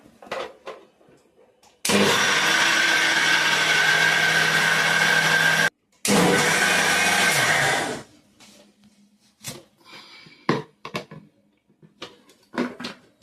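A kitchen mixer grinder blends soaked green gram dal with water and cumin into pesarattu batter, a loud, steady motor whir for about six seconds with one brief cut-out, followed by quiet clinks and handling noises.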